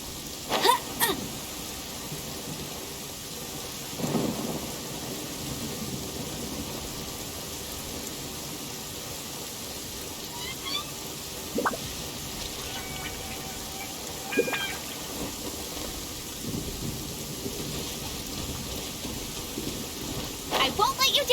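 In the video game Genshin Impact, rain falls as a steady, soft hiss, broken every few seconds by brief distant thunder cracks and rumbles, all sitting fairly low in the background.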